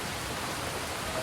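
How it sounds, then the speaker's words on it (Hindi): Light rain beginning to fall outdoors makes a soft, steady hiss with no distinct individual drops. "फिर मैंने बाहर जाके देखा तो धीरे धीरे बारिश भी आनी स्टार्ट हो चुकी थी।"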